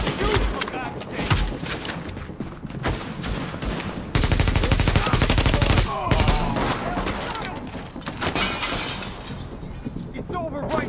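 Gunfire from a shooter in the video game Tom Clancy's The Division, dense bursts and automatic-sounding volleys with shattering impacts running throughout, mixed under game audio and excited voices talking.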